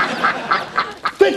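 A duck quacks in a quick run of about five loud, nasal calls, close and clear, with the last one sharper and higher.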